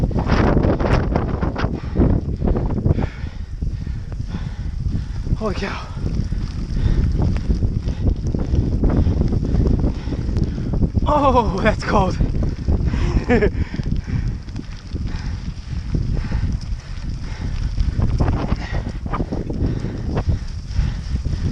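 Cold, gusty wind buffets the microphone on the snowy Bonneville Shoreline Trail near Pleasant View, Utah, during a mountain bike ride. It gives a constant loud rumbling roar, and a rider speaks briefly over it.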